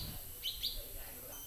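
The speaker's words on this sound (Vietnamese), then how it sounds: "Nói về khả năng bắt ruồi thì không loài chim nào giỏi hơn chim chảo" Chim chảo bird in a tropical forest giving two or three quick, high, thin chirps over a soft rustling background, with a narrating voice faintly underneath.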